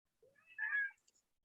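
A pet cat meows once while being fed at home, a short drawn-out cry followed by a faint higher chirp, close and fairly quiet.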